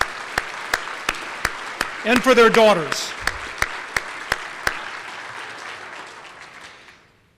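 An audience at a fundraising dinner applauds in a hall, with evenly spaced, echoing claps that ring out and slowly fade, while someone speaks briefly partway through.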